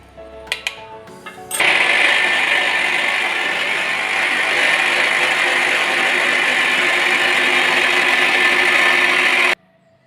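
A kitchen mixer grinder grinds flaxseed chutney with red chilli and salt. A few clicks come first, then a loud, steady, close whir runs for about eight seconds before cutting off abruptly.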